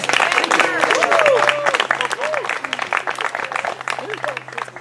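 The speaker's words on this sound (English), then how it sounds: "If we give him a round of applause." Picnic crowd outdoors gives a round of applause, scattered clapping mixed with lively voices talking and calling out, with a steady low hum underneath.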